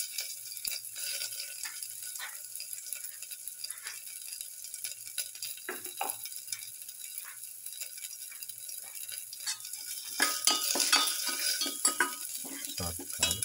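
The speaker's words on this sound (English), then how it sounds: "sauteed garlic" Garlic sautéing in a pan for a black pepper king fish and papaya stew gives a steady soft sizzle, with occasional stirring clinks and scrapes of a utensil and a louder burst of frying near the end.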